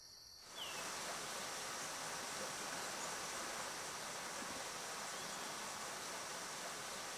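A jungle stream flowing near waterfalls, a steady broadband rush of water that swells in after a brief quieter start and holds constant, with faint insect chirps.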